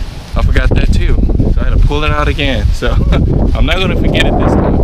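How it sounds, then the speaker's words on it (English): Outdoor wind buffets the microphone with a constant low rumble beneath someone talking while installing a Jeep engine. "sorry about the wind, it is a little windy out here like always."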